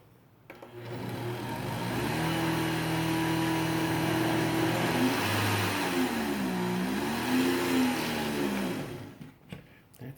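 An Oster Pro 1200 blender whirs through a two-ingredient ice cream mix, a steady motor drone whose pitch sags and wobbles as it hits an air pocket, then it cuts off near the end.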